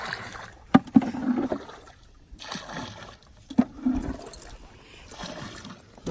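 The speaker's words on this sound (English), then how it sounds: "we need to take the water out because there's excess water" Water being scooped and bailed out of a small boat, with a few sharp knocks and splashing scoops, close by, in short bursts with pauses between them.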